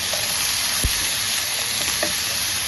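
Coriander stems frying in butter in a pan for shahi paneer give a steady, close sizzle throughout, with a couple of faint stirring scrapes and no talking.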